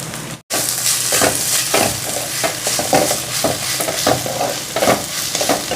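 Onions with ginger garlic paste sizzle steadily in a pan for a fish chukka, with rhythmic scraping stirs over a continuous close frying hiss, alone without talk.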